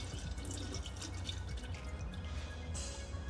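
Gear oil drains steadily from a Tesla rear reducer, thin as water, with a thin, trickling splash of liquid pouring into a container, continuous and close.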